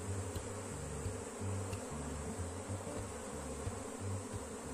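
A bee colony with a new queen, partially blocked, hums inside its hive in a thick continuous buzz with a pulsing low throb, close and steady throughout.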